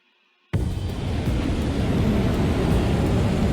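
An A-10 attack jet in the Ace Combat 7 flight game, a sudden loud broadband jet roar that starts after a short silence and holds steady.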